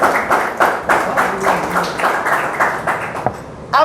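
A small audience claps in a quick, loosely rhythmic burst, loud and close, each clap a broad smack, ending abruptly with a short voice at the close.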